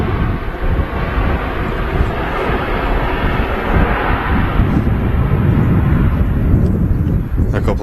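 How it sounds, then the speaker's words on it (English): Ryanair airliner arriving at Manchester Airport, a loud continuous engine roar with a heavy low rumble that holds steady from start to finish, with voices talking over it. "A couple of aircraft on the way in. A Ryanair from Faro, followed by another Ryanair in from Dublin."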